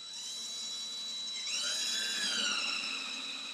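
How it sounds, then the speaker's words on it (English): A power drill bores a hole through a wooden cabinet drawer for hardware, a steady high whine that rises in pitch and loudness midway and holds, close and alone. "You got to keep this drill level when you make these holes."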